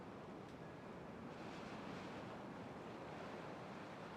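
Steady rushing water flowing in Timberborn, a continuous broadband wash like surf or a strong current, moderately faint and unbroken throughout with no talk over it.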